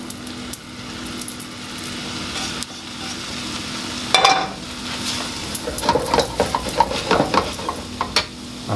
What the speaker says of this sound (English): So now I'm going to add my shrimp.